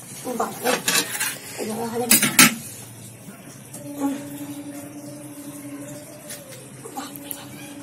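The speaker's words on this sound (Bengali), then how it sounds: "আমার থাল ঢাকনাটা খোলো, ঢাকনা খোলো।" A metal lid lifted from a pot of cooking khichuri: a few sharp clanks and rattles of cookware, then a faint lingering metallic ring in a quiet kitchen.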